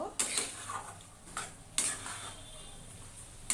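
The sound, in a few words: stirring fried fish in spice masala in pan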